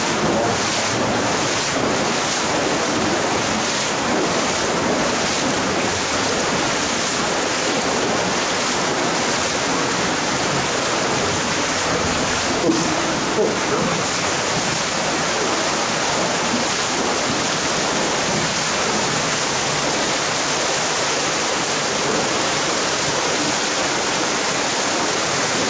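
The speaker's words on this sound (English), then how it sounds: "That's just water." Water rushes steadily through an underground tunnel system, a continuous broad roaring wash that stays loud and unbroken throughout with no voices over it.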